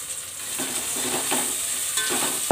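Ginger garlic paste and turmeric sizzle in a pot for tomato biryani, a steady bright frying hiss with a few soft stirring scrapes, close and continuous for a moment without talk.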